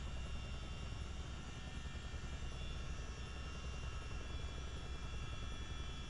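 Steady, dense rotor and turbine drone of a CH-47 Chinook tandem-rotor helicopter in flight in Microsoft Flight Simulator, a continuous loud cabin-level hum with no pauses and no talking.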